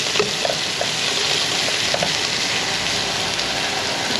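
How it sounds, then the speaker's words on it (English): Onions and garlic sauté in a hot pan, giving a steady, close sizzle with light stirring clicks throughout. "we're just gonna saute all of this stuff off. I'm gonna just add the onions, some of the garlic to it"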